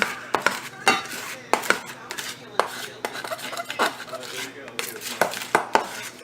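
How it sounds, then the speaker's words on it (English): Miniature brick mixture for a dollhouse being stirred in a container, giving repeated close scraping and clinking strokes of a utensil against the bowl in an uneven rhythm, with no talking. "I want to work out all of those chunks out of there, so I just keep mixing it."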